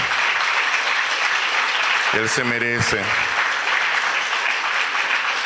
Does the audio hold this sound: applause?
yes